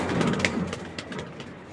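A young, restless racing pigeon held in the hand gives soft, close coos amid faint rustling and fidgeting.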